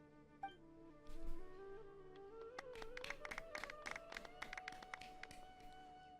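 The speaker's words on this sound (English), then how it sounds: "The clapping's so awkward because it's like 6 people, dude." Sparse, uneven clapping from roughly half a dozen people at an award ceremony in Genshin Impact, a scattered patter of claps that starts after a second and runs on thinly at moderate level over a soft musical tone.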